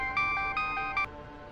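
A phone rings with a bright electronic melody, a few quick tonal pulses that stop abruptly, heard alone and fairly quiet.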